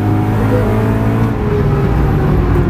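A BMW M3 V8 engine pulling hard on the Nürburgring, heard from inside the car as a loud, steady, dense drone with sustained high revs throughout.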